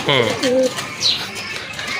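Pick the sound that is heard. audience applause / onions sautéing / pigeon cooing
pigeon cooing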